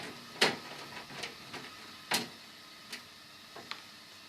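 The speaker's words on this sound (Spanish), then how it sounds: "vamos a sacar la chapa que cubre todo." A metal cover plate is worked loose from a thermoelectric wine cooler, giving scattered sharp clicks and small metallic taps at irregular intervals over a quiet background, close by.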